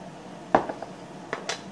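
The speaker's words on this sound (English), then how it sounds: "Then we're going to put the lid on." A lid is put onto a container of vinegar in a kitchen, giving a sharp close plastic click followed by a few lighter taps and a second brief snap, all alone with no talking.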